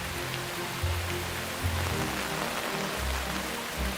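Heavy tropical rain pours down steadily in Singapore, a dense, continuous hiss of drops drumming on surfaces close by, with no talking over it.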